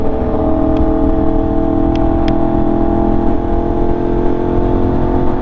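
Yamaha R1M motorcycle fitted with a new SC-Project exhaust, a loud close engine holding a steady high drone with a few brief sharp crackles.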